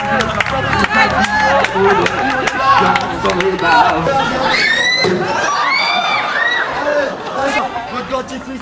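An excited crowd cheers and shouts with high, wavering voices and children's cries, a loud, continuous roar of festive hubbub.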